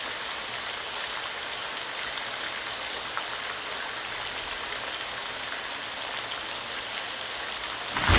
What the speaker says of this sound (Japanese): 後には雨音だけが残った。